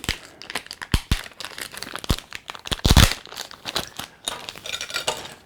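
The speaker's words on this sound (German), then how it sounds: "Aber fürs Tütenaufmachen wird es gerade noch reichen." Plastic bag containing a Hasbro Star Wars droid figure being torn and pulled open, with a run of sharp crinkling rips and bursts of rustling, loudest in the middle, close up with no talking.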